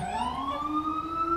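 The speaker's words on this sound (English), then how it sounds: "Like the machine gun siren." An emergency vehicle siren in a Brooklyn EMS call setting in EmergeNYC gives a rising electronic wail, steady and fairly loud throughout, with no talking over it.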